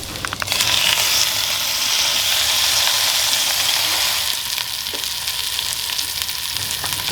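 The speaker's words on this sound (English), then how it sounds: "I pan-fried the lobster in garlic butter" Lobster pan-frying in garlic butter gives a loud, steady, close sizzle with dense crackling throughout, no voices.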